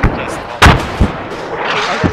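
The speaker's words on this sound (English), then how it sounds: "I swear a mortar just landed on us" A mortar shell bursts close by in Arma 3 with one sharp heavy blast, followed by a smaller thump and scattered crackle, while a player talks over it.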